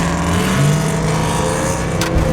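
A Coyote-engined car rumbles past close by with a loud, steady exhaust drone and a brief rise near the end, the engine note filling the whole short stretch with no talking.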